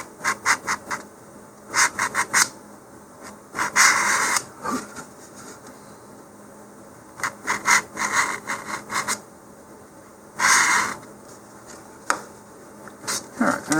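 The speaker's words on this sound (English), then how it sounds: "all this is doing is taking the glossy finish off of the tube and giving a better surface for the glue to adhere" Sandpaper scuffs the glossy finish off an Estes Patriot Missile model rocket body tube. Bursts of short, brisk rubbing strokes come in several clustered rounds separated by pauses, close and fairly loud, with no talking.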